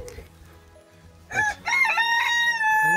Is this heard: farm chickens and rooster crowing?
yes